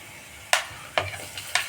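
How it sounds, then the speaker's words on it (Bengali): Chopped chilli, capsicum and onion stir-fry in a pan for chilli gobi manchurian: three sharp spatula scrapes land at regular intervals over a soft background sizzle, close and fairly quiet. "ক্যাপসিকাম, পেঁয়াজ সব আমি একটু দিয়ে নাড়াচাড়া করব।"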